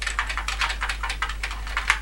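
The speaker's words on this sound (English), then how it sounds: "We can now put it into half duplex mode, and I can now start typing in again." Rapid typing on the keyboard of a Hazeltine 2000 video terminal under repair, a steady close patter of clicky keystrokes over a constant low hum, with no talking.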